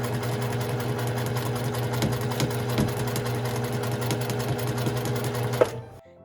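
Sewing machine fitted with a magnetic seam guide stitching fabric for a strap, a steady rapid mechanical whir with fine regular needle ticking, close and continuous before stopping at the end.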